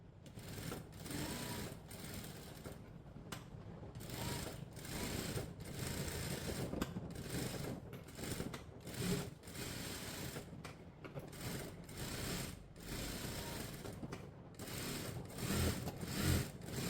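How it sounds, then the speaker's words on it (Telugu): A sewing machine runs steadily while stitching the ends of a blouse with a boat back neck and deep front neck, its fast mechanical whir continuing with brief pauses and changes in pace, close and alone. "ఇప్పుడు మనం చివర్లు కుట్టు వేసేసుకుందాం."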